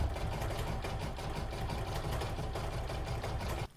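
A home embroidery machine sewing a satin stitch around the edge of an in-the-hoop oval coaster, a steady rapid mechanical chatter that runs evenly and then stops abruptly.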